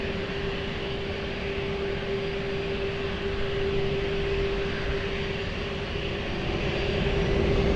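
A jet aircraft taking off from runway 20 at Lisbon Airport, a steady broad engine roar with a sustained droning tone, heard from a distance and building slightly toward the end.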